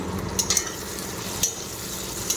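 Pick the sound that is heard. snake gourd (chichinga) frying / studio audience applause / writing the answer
snake gourd (chichinga) frying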